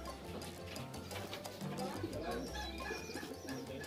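Racing pigeons coo softly at their loft after a training flight in Solano, Nueva Vizcaya, with low, steady cooing over busy background noise and nearby voices.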